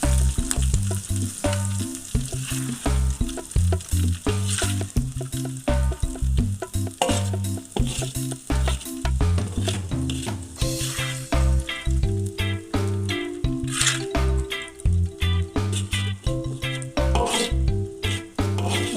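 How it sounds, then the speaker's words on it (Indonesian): Tempe slices frying in hot oil in a home kitchen, a loud continuous sizzle with bursts of crackling and occasional clatter of a utensil stirring in the pan, heard alone without talk. "Kita goreng setengah matang saja."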